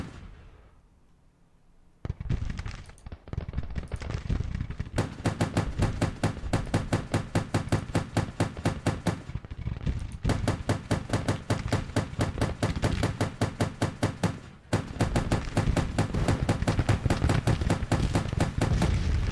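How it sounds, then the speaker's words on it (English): Gatling guns open fire on a Civil War battlefield in Grand Tactician: a sustained, rapid, evenly spaced chain of loud reports that continues with only brief pauses, heard alone without voices. "I also have Gatling guns right up here, ready to start firing. There they go. They're opening up. I love that sound."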